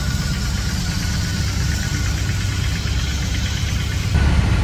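A BMW R18 motorcycle engine idles in an underground parking garage, a loud, steady, close rumble with fast even pulsing that thickens slightly near the end.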